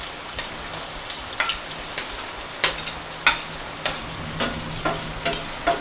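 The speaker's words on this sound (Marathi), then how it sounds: "फास्ट फ्लेमवर हा कांदा आपल्याला व्यवस्थित शिजवून घ्यायचा आहे।" Chopped onion frying in hot oil with crushed garlic over a high flame, giving a steady crackling sizzle broken by sharper pops and spatters, close up and with no talking.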